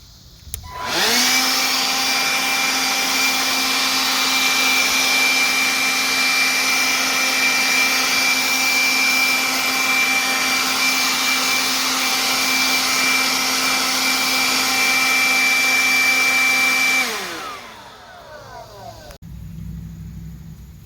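A cordless leaf blower blasts dust out of an air purifier filter, a loud steady whining roar held for about sixteen seconds before winding down and cutting off.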